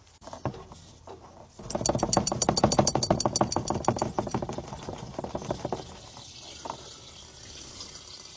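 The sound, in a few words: diesel fuel being poured into old bulldozer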